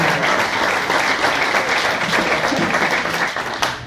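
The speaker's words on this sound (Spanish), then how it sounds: "y después un fuerte aplauso" An audience applauds a speaker at a talk, with loud, dense clapping that holds steady for several seconds and then thins slightly toward the end.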